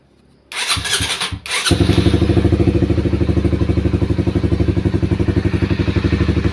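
An old Honda CBR motorcycle, fitted with a replacement rectifier, cranks briefly with the starter and fires up, then settles into a loud, close, steady idle with an even rapid chug and no talking.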